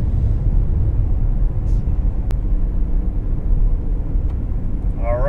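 A 2011 BMW 135i DCT with a stage 2 tune rumbles steadily under throttle, a dense low engine drone holding for several seconds with a brief high tick partway through.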